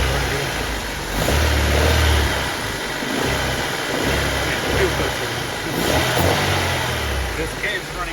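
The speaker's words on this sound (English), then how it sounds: "Car's a little warmed up, so I have to give it a little gas." A warmed-up Honda Civic engine, just after a fuel filter change, runs at a steady idle and is given light throttle in slow rises, fairly close and continuous.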